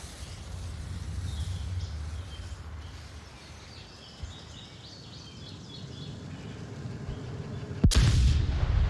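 Gunfire and distant explosions crackle in a military shooter match, with a low rumbling barrage early on and a loud, close blast near the end.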